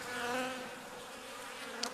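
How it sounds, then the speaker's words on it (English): Bees swarm around a beehive with a continuous close droning buzz, steady and fairly loud, with a brief sharper sound near the end. "Here's the hive, and it's buzzing with tons of bees."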